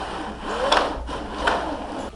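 Stepper motors in a candy-dispensing robot, mechanical whirring with faint repeated ticks and a rising whine, two brief swells of motor noise, close by with no talking.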